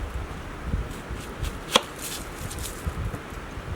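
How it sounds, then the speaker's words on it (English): A knife chops half an onion at a campsite with a few soft taps on a board and one sharper, louder cut in the middle, close and sparse with no talking. "the next step is gonna cut half an onion"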